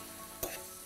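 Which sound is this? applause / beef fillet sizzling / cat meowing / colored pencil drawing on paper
beef fillet sizzling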